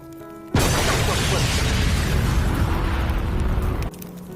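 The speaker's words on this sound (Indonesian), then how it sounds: "Namun sialnya, mobilnya malah terbakar dan meledak." A car catching fire and exploding in a film scene: a sudden loud burst that holds as a dense roaring blast for about three seconds before cutting back to quieter background.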